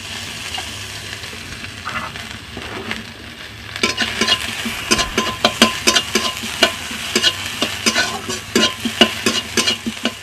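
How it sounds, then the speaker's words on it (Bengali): Onions frying in oil in a kadai, building from a quiet start to a busy crackling sizzle with repeated scraping stir strokes in the second half, close and fairly loud. "এখন আমি কড়াতে পেঁয়াজ দিয়ে দিচ্ছি আর তার সাথে তেল দিয়ে দিচ্ছি"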